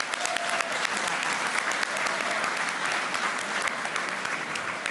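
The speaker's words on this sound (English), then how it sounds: "Can we please have a round of applause for Maggie and Annie O'Farrell?" A dense, loud round of applause fills the room at the Eclipse Awards ceremony in West Palm Beach, many hands clapping steadily and evenly throughout.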